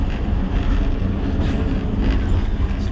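A train on the Šargan mountain railway runs steadily, a dense close rumble of wheels and carriage noise with faint rattling throughout, no voices.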